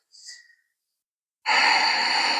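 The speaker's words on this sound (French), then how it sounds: "Une belle respiration" Someone in a home yoga barre session lets out a short soft breath, then after a pause takes a deep, loud, steady breath that carries on to the end.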